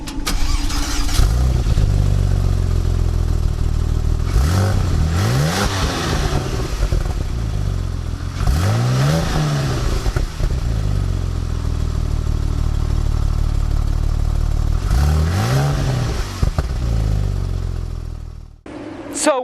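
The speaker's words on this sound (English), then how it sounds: "let's listen to the exhaust. It sounds pretty good." Porsche 911 997 Turbo flat-six engine and exhaust, loud and close, idling with several sharp revs that rise and fall, then cutting off abruptly near the end.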